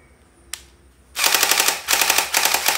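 A toy M416 gel blaster fires in full-auto mode: after one sharp click, a rapid loud stream of snapping shots comes in three close bursts, with no talk.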